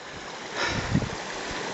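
Small waterfall beside a hillside path on a Scottish trail, a soft steady trickling rush heard faintly at a distance, with a slight swell partway through.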